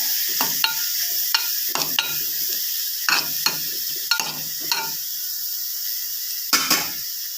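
Spinach thoran stir-fry being stirred in a pan, a series of distinct scraping, clattering strokes in uneven bursts over a light sizzle, close and fairly loud with pauses between stirs, no talking.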